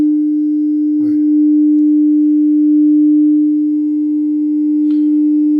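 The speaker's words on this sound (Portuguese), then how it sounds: "Esse é o sinal que está saindo aqui no amplificador." A loud, steady pure test tone from a Gradiente 246 amplifier hums without change throughout, with a couple of faint clicks or handling noises over it.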